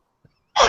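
A single short, sharp sneeze bursts out after a near-silent pause and a faint intake of breath, close to the microphone.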